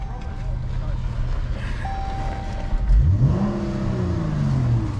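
A high-mileage Chrysler 300 with about 178,000 miles on it, its engine revving up from a steady idle in one rising sweep that then holds, with people talking nearby.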